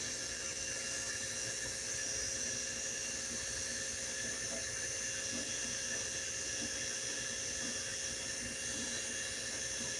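A wet saw cuts rock and metal slag samples, a faint, steady high-pitched whine with a hiss of water that runs unchanged throughout, with no voices.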